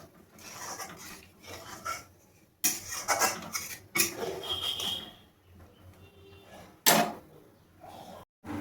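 Paneer curry gravy with kasuri methi stirred in a pan, a spoon scraping and clinking against the metal in irregular bursts with short pauses, fairly close and moderately loud.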